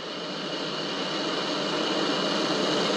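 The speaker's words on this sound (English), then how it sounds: "And liftoff. Liftoff of the Atlas V, carrying JPSS-2 and Lofton" Atlas V rocket igniting and lifting off from the West Coast carrying the JPSS-2 weather satellite, a steady, dense broadband roar that holds loud and unbroken throughout.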